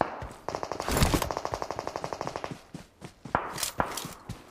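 Gunfire in PUBG Mobile played on an iPad Mini 5: a close, rapid run of evenly spaced shots, then a few scattered single blasts, with no talk over them.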